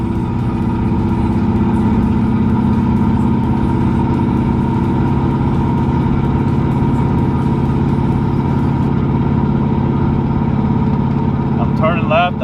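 A 1995 Ford F-150 pickup on a two-wheel-drive OBS chassis cruises along a curving main road, its engine a steady low drone with road noise, close and loud from inside the cab, and a voice talking over it.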